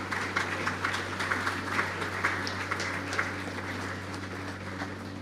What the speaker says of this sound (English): Let us give our school prefects a round of applause.